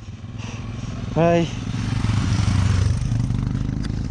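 Motorcycles ridden by bikers on the high roads of Ladakh near Khardung La give a steady, close engine drone, while someone speaks briefly over it.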